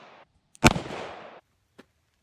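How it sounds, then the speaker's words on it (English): A single loud, sharp shot from a Taurus Public Defender Poly loaded with a 410 shell of number 6 birdshot, fired at a target 10 yards away, cracks once up close and then decays quickly in a brief tail. "we're 10 yards away from our target with a 410 shell number 6 shot in it"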